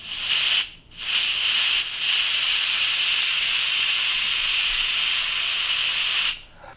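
An Instant Pot doing a slow quick release lets off steam in a loud, steady hiss close by, briefly cut twice near the start, then running continuously before stopping abruptly at the end.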